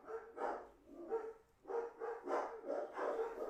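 Dogs bark in repeated bursts at a moderate distance, several rough barks in an uneven rhythm with short pauses, heard without talking over them.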